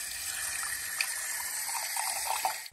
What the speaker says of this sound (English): We'll do a taste test up there with water out of the tap at the kitchen sink.